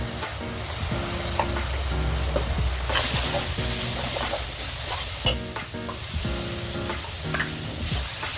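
Turmeric, chili and coriander powder frying in oil for dhaba-style tadka dal, a loud continuous sizzle close by with regular scraping and stirring strokes of a spatula against the pan.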